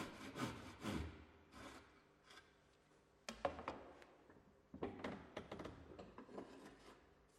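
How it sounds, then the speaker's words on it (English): A tenon saw cuts through a timber skirting board in uneven bursts of rasping strokes, fairly faint and close, with short pauses between runs and no voices. "Continue to use the tenon saw to make as many straight saw cuts as possible while rotating the skirting vertically."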